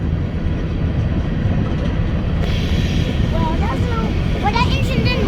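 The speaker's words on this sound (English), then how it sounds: "Finally a train came." A BNSF freight train with a CN locomotive passes at Palmer Lake, Colorado, a continuous heavy rumble of rolling cars, close and loud, with voices chatting over it in the latter half.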